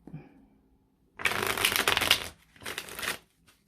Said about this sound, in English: Let's go ahead and get this deck shuffled